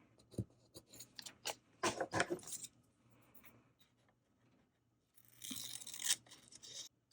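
Scissors cut through vintage advertisement paper for a junk journal masterboard, making a burst of crisp snips and crinkles up close, a quiet pause, then another short rustling cut, all fairly faint.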